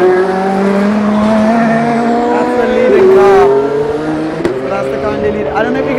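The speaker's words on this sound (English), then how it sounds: "They're coming off the Mulsanne straight to the really long straight, and they brake so hard to get round this slightly banked corner" Le Mans race cars brake hard at the slightly banked Indianapolis corner after the Mulsanne straight, engines whining down in pitch from a distance, with a rising pass of another car; spectators talk underneath.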